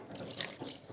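Water pouring into bread dough ingredients for Swiss Bürli rolls, 300 ml of liquid in a soft, steady splashing trickle close by, with no voices.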